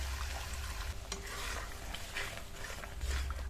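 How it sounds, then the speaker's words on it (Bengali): Masala with nut paste and a splash of water fries and gets stirred in a pan for a Bengali fish curry, a dense sizzle under scraping spoon strokes. "আবার এই মশলাটা তেল ছাড়া পর্যন্ত কষিয়ে নেব।"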